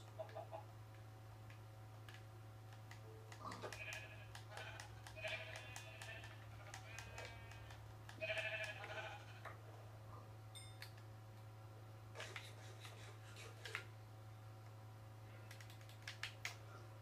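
Sheep bleats from Minecraft come through in several short, game-like calls over a steady low hum, mixed with keyboard clicking and small tick-like sounds.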